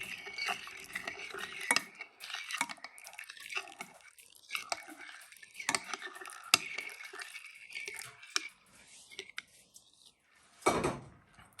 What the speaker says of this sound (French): on met l'eau chaude en remuant un peu